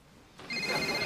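Office telephone ringing in a 2000 British comedy setting: after a brief quiet moment, a bright electronic ring starts abruptly and sustains near and clear.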